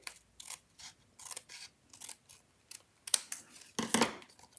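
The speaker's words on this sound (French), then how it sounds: "Tout ce qui dépasse, vous pouvez le couper." Scissors cut through card paper in a series of short, crisp snips, close and fairly quiet, with small pauses between the strokes and a couple of sharper clicks toward the end.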